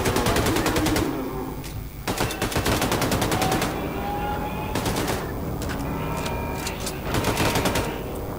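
Rapid automatic gunfire from a weapon in the video game Wolfenstein II: The New Colossus, loud sustained bursts of dense shots with brief gaps, heavy and close over a busy game soundscape.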